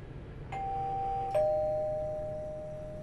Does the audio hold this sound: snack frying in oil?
no